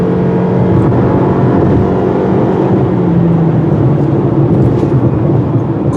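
A 2018 Toyota RAV4 Hybrid pulls away hard in sport mode, with a steady, loud engine and drivetrain drone that rises in pitch as it accelerates, the road noise continuous throughout.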